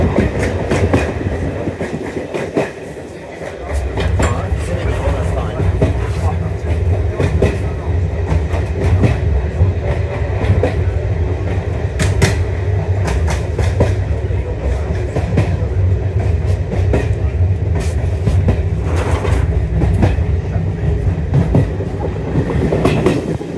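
A diesel multiple unit train runs along the East Lancashire Railway, heard from inside with a steady low rumble and repeated clickety-clack of wheels over rail joints, loud and continuous throughout.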